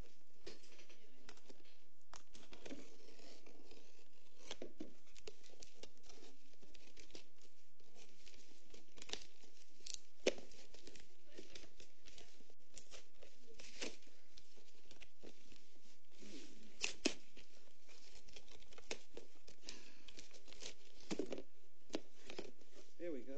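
Mail packaging being trimmed open and unwrapped, with intermittent crinkling, tearing and rustling of plastic or paper close by, scattered through a long stretch under occasional conversation.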